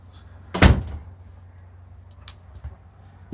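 Corner shower doors in a Forest River Hemisphere Hyper-Lyte RV: one loud close thunk near the start, followed by a few softer clicks and taps, close by with no talking.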